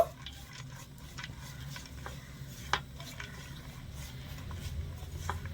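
Quiet, low sizzling of chopped cashews and almonds frying lightly in a pan, with occasional scrapes and clicks as they are stirred.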